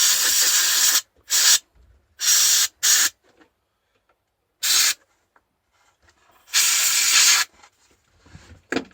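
An aerosol can sprays onto an RC boat in several loud, close hissing bursts of varying length, separated by silences, with a longer spray near the end.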